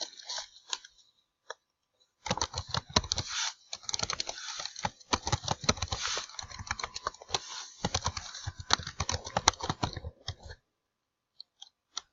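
Someone types a name, birthday and gender into a forum sign-up form on a computer keyboard, giving dense, rapid clicking keystrokes in bursts across roughly eight seconds, close and clear, with brief single taps before and after.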